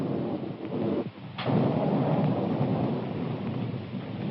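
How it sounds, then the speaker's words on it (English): A loud rolling rumble of thunder over steady heavy rain, with a sharp crack partway through. "Storm coming up."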